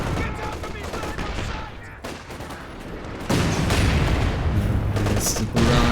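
Gunfire from the Scots in a strategy video game rolls out as a dense fusillade of overlapping shots and booms, growing louder midway, with a voice talking over the battle.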